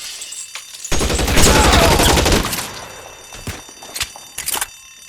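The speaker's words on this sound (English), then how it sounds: "Stay down. Suppression fire." Suppression gunfire in L.A. Noire, a dense sustained volley of shots lasting a couple of seconds, then fading into a few scattered, sharper single shots further apart.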